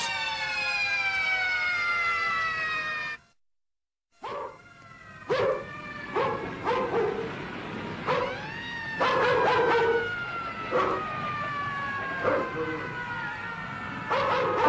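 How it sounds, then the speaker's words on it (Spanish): Wailing sirens rise and fall, with dogs barking and howling along at mid distance; a brief silent gap cuts in early. "¿Oyes esas sirenas?"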